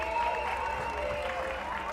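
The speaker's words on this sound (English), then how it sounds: "can hear the home crowd giving cheer for the substitution replacement, Ethan Camille" A rugby home crowd applauds and cheers a substitution during a match between Connect NTK and St Georges, a steady wash of clapping heard from a distance under an ambient stadium background.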